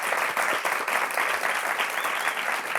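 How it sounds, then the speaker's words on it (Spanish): Enthusiastic audience applause at a live Spanish-language talk show on artificial intelligence, a dense, even roar of many hands clapping close and loud throughout, with no speech. "Un aplauso para ellos."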